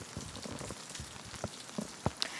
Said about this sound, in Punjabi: ਹੁਣ ਮੀਂਹ ਵੀ ਪੈਣਾ ਸ਼ੁਰੂ ਹੋ ਚੁੱਕਿਆ ਹੈ